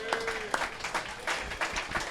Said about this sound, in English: Let's give P a round of applause here.